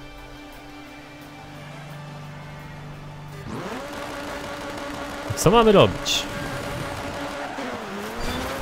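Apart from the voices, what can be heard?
rally car engine in video game Dirt 3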